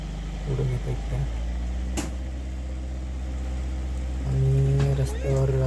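A car overturned in a farm field is driven forward onto the road, its engine droning low and steady, then revving louder near the end, with voices talking over it.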